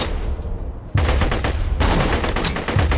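Loud, dense bursts of rapid gunfire from the Borderlands 2 video game fill the whole stretch, shots crackling almost continuously with a sharp surge partway through.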